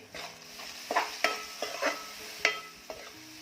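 Moong dal stir-fried in a pan for methi bhaji, with a soft background sizzle broken by several sharp scraping and clinking strokes of a spatula at irregular intervals, close.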